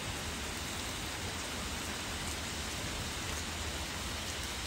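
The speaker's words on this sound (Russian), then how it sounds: "И пошел дождичек." A steady, even hiss of light rain falling continuously during a tropical storm in Florida, with no voices, a soft uniform patter filling the whole clip.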